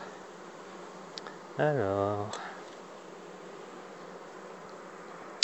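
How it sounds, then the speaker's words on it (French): Honeybees swarm thickly over a hive partition during a spring colony visit in garrigue country, a continuous close buzzing throughout, with a brief spoken word partway through. "Vu le nombre d'abeilles qu'il y a sur la partition"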